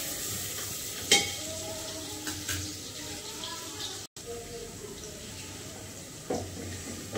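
Onions frying until red in a pan for biryani, a continuous low sizzle with occasional clinks and a brief dropout, with faint background sounds and no clear talking.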